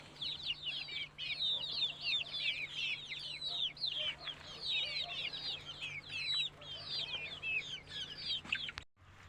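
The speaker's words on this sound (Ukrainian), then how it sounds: "Ось такі у нас курки." A flock of chickens clucking and squawking continuously, busy overlapping calls close by with a steady low hum beneath.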